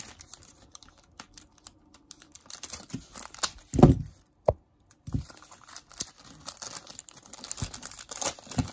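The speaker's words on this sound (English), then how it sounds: "Tape off." Tape peeled and torn off the cardboard and plastic packaging of a Bakugan Ventus Serpillious Ultra toy, with close crinkling and rustling, a louder rip midway and scattered handling noises.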